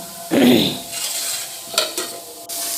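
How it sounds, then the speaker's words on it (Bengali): Leafy greens are stir-fried in a hot pan in a home kitchen, with a loud burst of sizzling followed by softer frying hiss and a few brief scrapes of the spatula. "এখানে শাক ভাজা"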